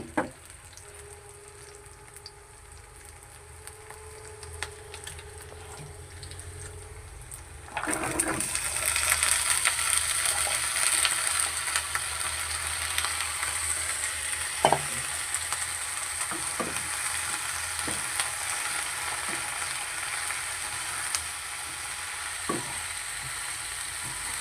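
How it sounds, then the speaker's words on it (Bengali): Chopped winter vegetables hit hot oil in a pan and fry with a loud, steady sizzle that jumps up suddenly partway through, with occasional clinks and scrapes of stirring, no talking. "এটা এখন নেড়ে চেড়ে নিয়ে এর মধ্যে সবজিগুলো ঢেলে দিব, কেটে ধুয়ে রাখা সবজিগুলো ঢেলে দিব।"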